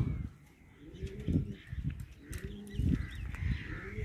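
Soft, low cooing calls repeat in irregular bursts against a faint outdoor background, with a few higher bird chirps scattered throughout.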